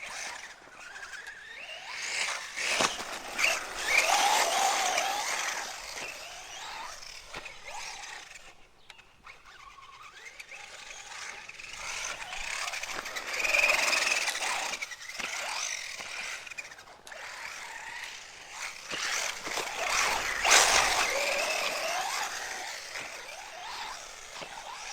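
A Traxxas Slash 4x4 RC car on 4S LiPo power driving around a local RC track, its high electric whine rising and falling in repeated bursts with tire scuffing, heard from a moderate distance without talk.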